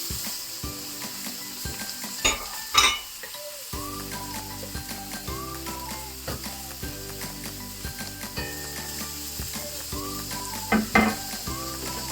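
Beef added to sautéed onions for fried rice sizzles steadily in a pan, with occasional clinks of utensils against metal over the constant frying hiss.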